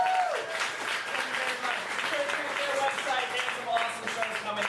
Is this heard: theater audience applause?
yes